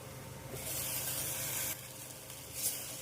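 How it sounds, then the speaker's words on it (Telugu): Green chillies soften in a pan on low heat, giving a soft continuous sizzle with two brighter hissing swells, close and steady, with no talking. "ఇలా మొత్తం కలిపేసుకున్న తర్వాత స్టవ్ని సిమ్లో పెట్టుకొని మధ్య మధ్య కలుపుకుంటూ ఈ మిరపకాయలన్నిటిని మెత్తగా మగ్గించుకోవాలి."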